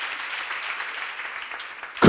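Audience applause at a church seminar on the Book of Acts, a steady broad patter of many hands throughout, swelling louder at the very end.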